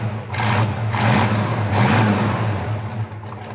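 The original 327 two-barrel V8 in a 1967 Camaro revs up three times in quick succession, loud and close, each blip rising and falling over a rumbling idle.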